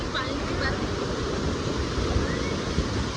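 Sea waves rolling onto a clean beach in Odisha, a continuous roar of surf mixed with wind buffeting the microphone, near and steady throughout with no talk.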